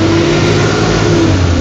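A car engine revs steadily as the gas pedal is pumped several times, a loud, close, continuous drone with no talking.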